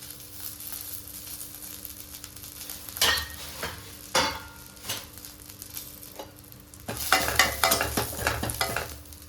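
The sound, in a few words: curry leaves added and frying in hot oil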